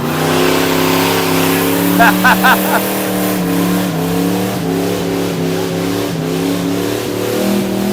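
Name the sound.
diesel engine revving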